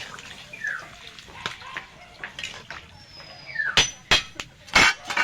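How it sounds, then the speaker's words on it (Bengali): Water poured from a washed-out spice bowl into a pan of fish and green tomato curry, a short splashing pour with sharp clinks of the bowl against the pan toward the end. "পরিমাণ মতো জল দিয়ে দেব।"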